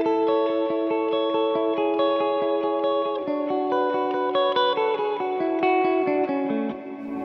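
Electric guitar played through a plate reverb pedal on a pedalboard, a steady run of sustained, ringing chords with a lush, heavy ambient wash, loud and continuous with no talking.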